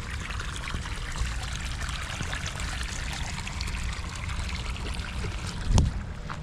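Irrigation water trickles slowly onto eggplant plants in a field, a steady low gurgling flow heard alone, with one brief louder splash near the end.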